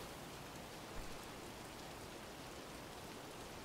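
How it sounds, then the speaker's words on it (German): Steady rainfall in the video game Wolfenstein: The New Order, a constant broadband hiss of drops on surfaces with no talking over it. "So, da regnet es einmal wieder."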